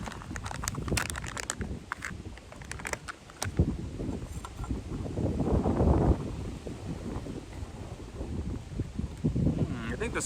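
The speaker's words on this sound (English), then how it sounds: "It's getting windy." Wind gusts across a campsite in Alaska, buffeting the microphone with low rumbling surges that swell and fade, mixed with scattered clicks and rustles of camp activity nearby.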